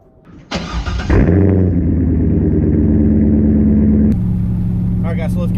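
An automatic C5 Corvette cranks briefly with the starter whine, then catches and fires up into a loud, rumbling idle that shifts slightly as it settles, heard up close.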